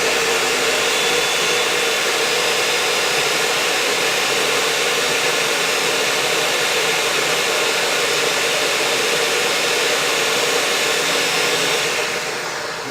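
A food processor or blender grinds fresh garden basil into pesto, a loud, steady whirring roar running without a break for about twelve seconds before tapering off at the end.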